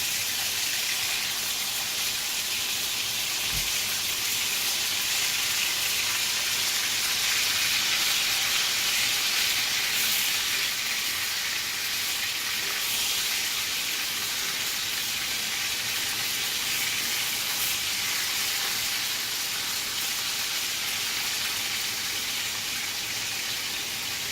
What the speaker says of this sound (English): And they're sizzling like that because they're wet